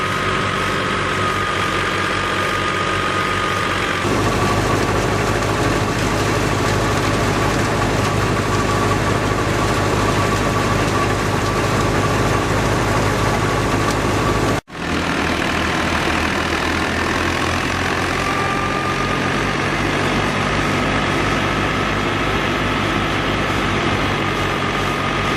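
An Al Ghazi tractor runs a large wheat thresher in a field, making a loud, steady, low engine drone with mechanical churning that continues throughout. A brief dropout comes partway through.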